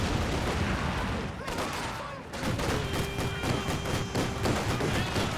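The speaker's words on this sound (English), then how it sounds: "There goes the Ziz gun in barrage mode." An artillery barrage from a Ziz gun in a real-time strategy video game: a dense, continuous volley of overlapping blasts and thuds with a sustained tonal whine in the middle, loud throughout.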